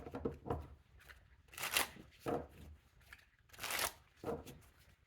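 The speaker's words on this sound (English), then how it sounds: "you saw me shuffle the Tower card" Tarot cards being shuffled in several quick riffling bursts, close and fairly quiet, with pauses between each shuffle.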